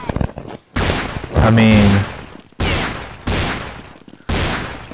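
Bursts of rapid automatic gunfire from the video game Counter-Strike 1.6 come in several loud volleys separated by short pauses, with someone talking briefly between them.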